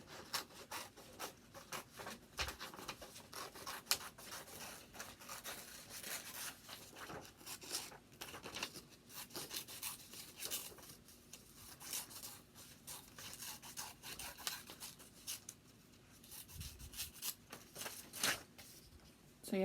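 Scissors cutting a paper shape for a paper wig, a steady rustling, rasping run of snips and paper handling, close and fairly quiet throughout with no talking.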